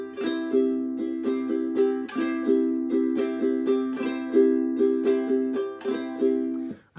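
Ukulele strummed in a steady rhythmic pattern with varied accents, repeated chords ringing close and clear for about seven seconds, no talking.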